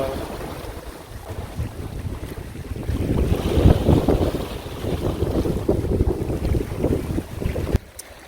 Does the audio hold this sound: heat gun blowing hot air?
no